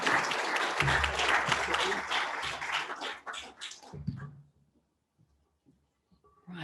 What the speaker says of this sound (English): So give yourselves a round of applause for all of that work this afternoon.